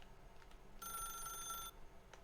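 A telephone rings in The Stanley Parable video game, one bright electronic trill lasting under a second against a quiet background.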